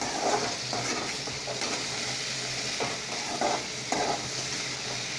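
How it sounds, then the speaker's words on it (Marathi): Potato pieces stirred and frying in hot oil with green chillies for sabudana khichdi, a steady close sizzle with repeated scraping stir strokes and light clinks of the pan, no talking. "आता याच्यामध्ये बटाटा टाकायचा चांगला मिक्स करून घ्यायचा"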